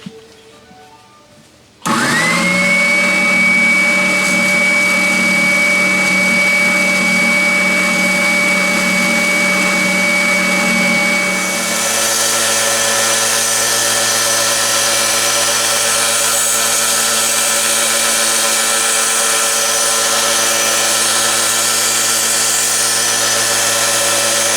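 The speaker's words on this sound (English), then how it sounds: "Next, a little sandpaper action." Sanding with sandpaper by power: a steady, loud whirring motor with a gritty hiss starts abruptly after a short quiet moment and runs continuously, its tone shifting partway through but never stopping.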